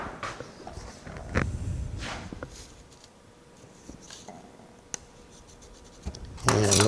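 Pencil marks are scratched onto wood veneer in a woodworking shop, a few quiet dry strokes and taps spread out over several seconds, with a louder handling sound at the end.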